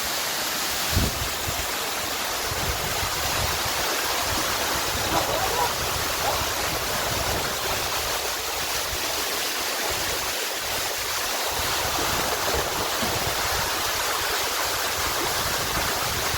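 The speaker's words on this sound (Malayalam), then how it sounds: "ഇങ്ങോട്ടാ അരുവിക്കച്ചാല വാട്ടർഫോൾസ് ആണ്. വെള്ളച്ചാട്ടമാണ്." Aruvikachal waterfall flowing, a steady loud roar of rushing water that stays even throughout and fills the whole scene with constant broadband noise.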